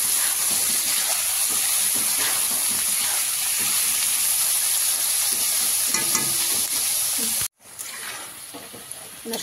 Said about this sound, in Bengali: সবজিগুলো ভেজে নিচ্ছে, রাইসের সবজি সব একসাথে দিয়ে দিচ্ছি।